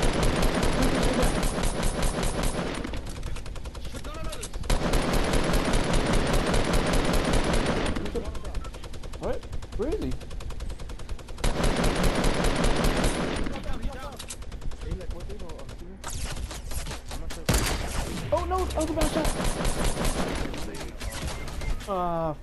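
Bursts of rapid automatic gunfire in a Fortnite match come in long volleys separated by short gaps, loud and close, with players talking excitedly over the shooting.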